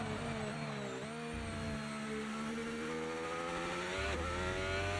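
A race car in a Bahrain racing video game runs toward a corner with a continuous loud engine whine that rises in pitch, dips briefly as the driver lifts, then climbs again near the end.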